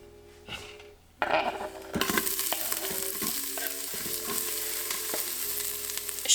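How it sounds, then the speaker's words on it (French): Onions hit hot olive oil in a pressure cooker with a sudden burst of loud sizzling, settling into a steady close crackle with occasional knocks and scrapes from stirring. "j'ajoute un petit peu d'huile d'olive et ensuite j'y plonge les oignons"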